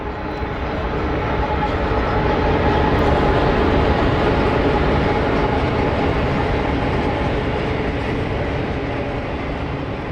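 A CSX freight train led by orange locomotives rolls past at close range, its loud, steady rumble and wheel noise filling the whole stretch without a break.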